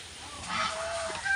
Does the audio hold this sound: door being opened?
no